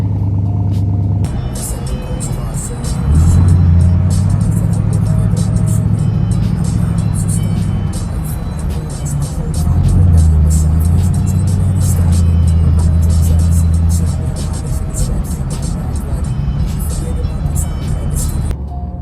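At a Japanese classic kyusha car meet, a car cold-starts with a sudden crank and catch, then settles into a loud, rough idle with rising and falling revs, close by.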